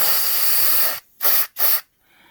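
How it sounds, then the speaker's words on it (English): A long hiss of aerosol spray onto a stuck swingarm bolt of a Suzuki DR200 motorcycle, then two short bursts with brief pauses between them, close to the microphone. "So we'll get some more spray on there."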